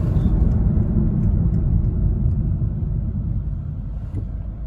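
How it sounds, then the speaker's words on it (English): A 2014 Kia Sportage 2.0 CRDI brakes hard from higher speed, giving a steady, loud low cabin rumble of road and engine noise that eases slightly toward the end, with no talk. "a hard brake from higher speed"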